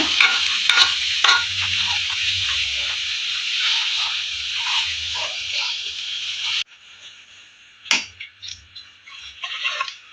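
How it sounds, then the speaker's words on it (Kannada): Bisi bele bath, a thick rice, lentil and vegetable dish, bubbling and being stirred in a pot: steady close sizzling and scraping for several seconds, then quieter scattered clinks and stirs. "ನೀಟಾಗಿ ಕುದಿಸ್ಕೊಳ್ಳೋಣ."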